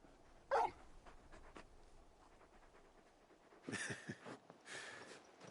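Torgal, the large wolf-dog companion in Final Fantasy 16, gives a short bark followed by soft whimpering and a few yips, faint and close.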